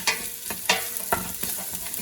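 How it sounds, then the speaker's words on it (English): Onion and garlic cooking in a pan while being stirred, a steady sizzle cut by rhythmic scraping strokes, about five or six close, fairly loud passes. "Give it a good stir."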